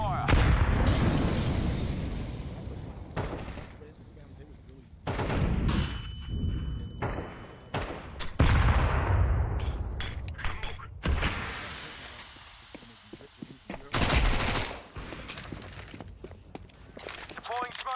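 Gunfire in Counter-Strike 2 mixes with a string of thudding blasts and bursts, loud and irregular, across a busy competitive match, with footsteps and voices in between.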